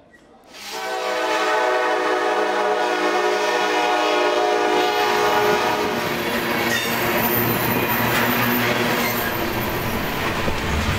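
A heavy freight train rumbles past up close in Mexico, steady and loud, with wheels squealing and a long blaring horn sounding over the clatter of the cars.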